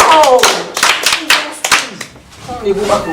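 A class of children claps for a student in a classroom, with sharp, uneven hand claps close by over about three seconds, mixed with children's voices.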